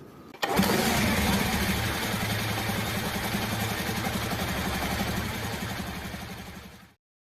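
A Honda CD 70 motorcycle engine starts with a sharp catch, then settles into a steady, close, rapidly thumping single-cylinder idle while it warms up, before the sound cuts off abruptly.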